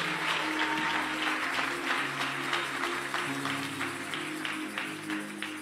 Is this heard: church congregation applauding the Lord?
yes